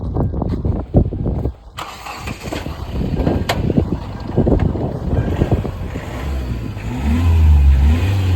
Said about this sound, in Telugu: మీకు ఇంజిన్ కూడా స్టార్ట్ చేసి చూపిస్తాను ఒకసారి